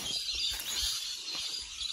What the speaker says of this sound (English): You can hear the noises of a lot of birds and insects here.